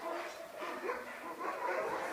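A large sled dog barks and yips in short repeated bursts, fairly close, over a busy background.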